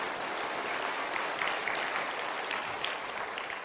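A church congregation claps together during a Sunday sermon, a steady dense wash of applause that holds evenly throughout without any speech.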